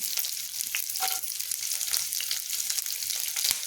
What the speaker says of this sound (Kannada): ಈರುಳ್ಳಿ ಚಂದ ಸ್ವಲ್ಪ ಚಂದ ಫ್ರೈ ಆಗಬೇಕು